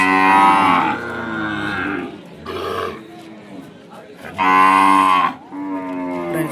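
Loud, close mooing from Ongole calves at a livestock market: two long drawn-out calls with shorter, lower moos and grunts between them.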